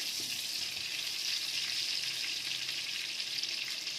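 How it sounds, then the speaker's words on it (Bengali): Potatoes frying in oil until browned, a faint, even hiss of sizzling that holds steady throughout, with no talk and no other distinct sounds. "আলুটাকে একবারে লাল করে ভালো করে আমি এখন ভেজে নেবো"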